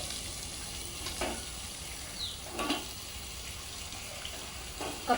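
Marinated country chicken is dropped into a hot pan and fries with a steady sizzle. Occasional stirring scrapes and clinks sit on top, fairly close.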